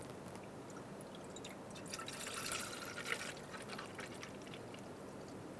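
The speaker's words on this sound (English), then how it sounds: "Remove your cap and top off your coolant." Coolant is poured into the reservoir of a 2002-2006 Toyota Camry, a faint, continuous trickle with soft gurgling that swells slightly midway.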